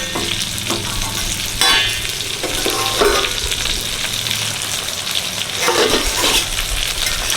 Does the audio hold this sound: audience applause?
no